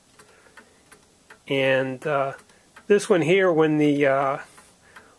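A Seth Thomas four-bell Sonora chime clock from around 1915 ticks softly and evenly in the background while a person talks over much of it.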